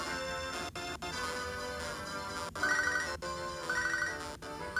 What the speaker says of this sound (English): I can't pick up the phone, Joey.